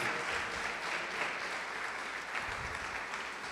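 A church congregation applauding during a sermon, a dense, steady wash of many hands clapping that fills the room with no break.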